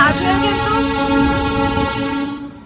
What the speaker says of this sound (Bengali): এরকম টয় ট্রেন কিন্তু যাচ্ছে, এই দেখুন